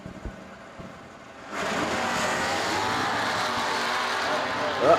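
A 1969 Camaro B-Stocker and an F-Stock automatic Barracuda launch in a drag race, their engines bursting from a quiet idle into a sustained loud roar with tire noise that holds to the end.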